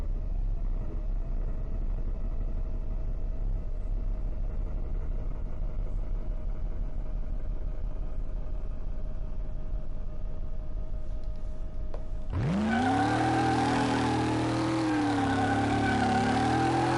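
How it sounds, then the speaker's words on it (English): A car's engine in Car Mechanic Simulator idles as a low steady rumble for about twelve seconds, then suddenly roars up into a loud, sustained rev that holds high and strained to the end, with no voices. "we're going to take this car out and we're going to thrash on it"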